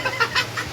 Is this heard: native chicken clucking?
yes